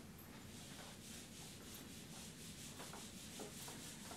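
A duster rubbing writing off a classroom board, a continuous low scrubbing swish in repeated back-and-forth strokes, fairly faint with no talk.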